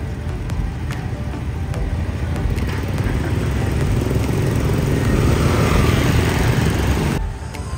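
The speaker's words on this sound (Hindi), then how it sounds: "तो छोटा सा क्यूट सा स्कूटर।" A small scooter engine buzzes steadily and loudly close by on a street in Phuket, Thailand, swelling slightly as it passes, then drops away abruptly at the end.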